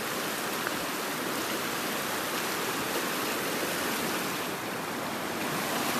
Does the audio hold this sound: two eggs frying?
no